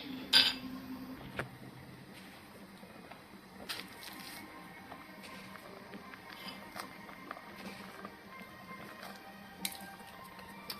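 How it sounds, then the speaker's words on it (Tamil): Vermicelli stirred in a pan, heard as scattered clinks and scrapes of a utensil against metal with a loud knock at the start, spaced irregularly over a quiet, faintly hissing background. "நல்லா வேகட்டும் சேமியாவை அடிக்கடி இப்படி கிண்டி விட்டுருங்க அப்போ தான் நமக்கு ஒட்டாமல் வரும்"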